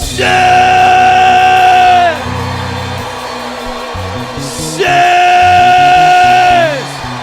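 A church congregation shouts together in unison, raising two long, sustained, loud calls of about two seconds each, with a murmur of crowd voices between them.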